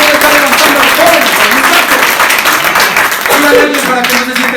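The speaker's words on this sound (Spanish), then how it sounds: "Dale un aplauso al Rey de Gloria." At a church service, a congregation claps loudly and steadily throughout, a dense wash of hands with voices calling out over it.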